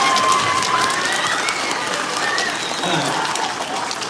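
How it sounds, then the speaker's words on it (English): Second and third graders at an elementary school clap together in a room, a dense, steady patter of many hands holding an even level, with faint voices underneath. "Can you clap for that?"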